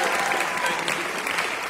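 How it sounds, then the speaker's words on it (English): Lecture audience gives a round of applause for Nala at a university McNair lecture event, steady dense clapping throughout with faint voices mixed in. "Let's give Nala a round of applause as well."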